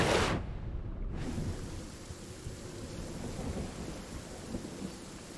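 A stormy scene in the Fortnite battle royale game: a loud thunderclap opens, then steady rain and a low rumbling wash continue evenly to the end, with no voices.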